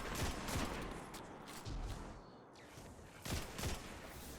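Rapid gunfire rattles in bursts during a video game fight against snipers in a lost sector. Clustered shots open the passage, a brief lull follows, and a final flurry of fire closes it, all moderately loud with no talk.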